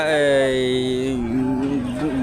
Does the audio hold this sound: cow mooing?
yes